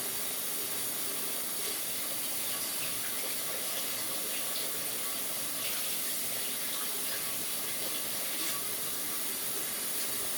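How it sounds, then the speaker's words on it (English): Hot water running steadily from a kitchen tap over yakisoba noodles, a constant hissing gush lasting about ten seconds with no voices. "So I'm going to run the hot water over it."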